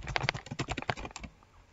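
A quick burst of typing on a computer keyboard as a site name is entered, with close, crisp key clicks in an uneven rhythm for about a second, then quiet.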